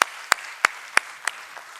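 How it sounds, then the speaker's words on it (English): At a stock exchange listing ceremony for Lux Industries, a few isolated, sharp hand claps ring out at an even pace, about five in under two seconds, over a quiet room. "Keep the applause going, ladies and gentlemen."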